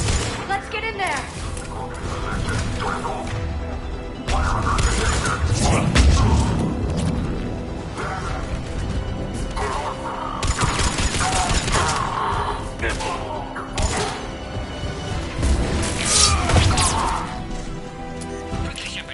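Sustained gunfire and combat clatter at a checkpoint in the video game Mass Effect, with dense bursts, crashes and thuds running throughout over a music bed, while voices talk intermittently.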